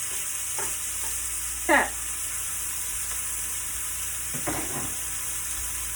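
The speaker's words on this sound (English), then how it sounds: "I'm going to take my steak and place it in this hot pan." Steak laid into a hot pan, with a steady broadband sizzle of frying throughout and two short louder bursts of searing crackle as the meat settles; a brief spoken word is heard.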